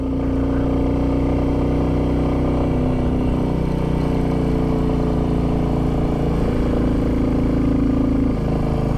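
A Royal Enfield Classic 350 or Moto Guzzi V7 motorcycle riding along a cold, gritted autumn road in Yorkshire, giving a steady, close engine drone with a low hum throughout and no talking.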